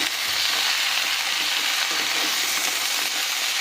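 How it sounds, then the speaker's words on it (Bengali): Mixed vegetables, including five kinds of greens and stalks, fry in a covered pan, giving a steady, dense sizzle that holds at an even loudness throughout with no voices. "ঢাকা দিয়ে দিয়ে খুব ভালো করে আমরা ভেজে নিচ্ছি"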